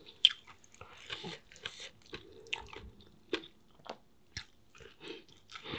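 Crunchy bites and chewing of lobster with spicy Thai papaya salad, close up and loud, in an irregular series of sharp crunches and wet chews with no talking.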